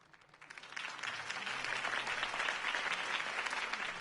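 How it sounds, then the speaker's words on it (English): A crowd applauding after a campaign speech, dense steady clapping that swells in over the first second and holds at a moderate, slightly distant level with no voices over it. "If only Mr. Wayne, my campaign's largest backer, could have heard that applause"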